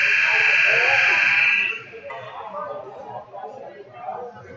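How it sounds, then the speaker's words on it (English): A scoreboard clock buzzer at a sporting match sounds one loud, steady electronic buzz for under two seconds and then cuts off, leaving crowd chatter and voices talking in the background. "the buzzer that is continuing to go off"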